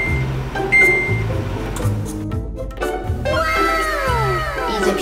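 A microwave oven heating Buldak spicy stir-fried noodles with triangle kimbap and cheese for one minute gives a steady low hum throughout, with quick tonal beeps and a rising electronic melody layered on top.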